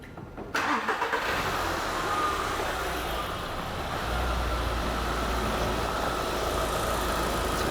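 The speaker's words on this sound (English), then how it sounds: "So I'm going to go over, start the engine up." A car engine cranks and catches after a brief quiet moment, then settles into a steady, low idle that rumbles on close by to the end.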